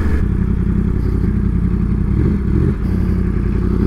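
A Yamaha R1 motorcycle idles close by with a loud, continuous rumbling exhaust, irregular pops and crackles breaking through the dense low burble.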